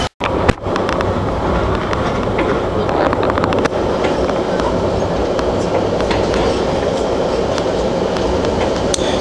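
Steady loud rumble fills the cabin of a Chicago Metra commuter train while riding toward downtown, with rhythmic clickety-clack of the wheels and faint squeals over the constant roar.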